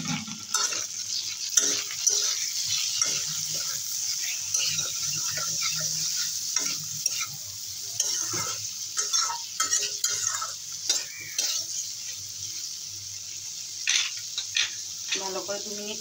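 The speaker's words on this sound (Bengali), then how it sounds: "ভালো করে 2 মিনিট কষিয়ে নেবো আবার।" Vegetables with salt and turmeric stir-fried in a pan, a steady sizzle broken by repeated scraping and clinking of a utensil against the pan, close up, with occasional brief talk.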